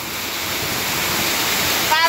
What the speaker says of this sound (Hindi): झरने गिर रहे हैं पूरे जंगल से खूबसूरत से झरने है यहाँ पर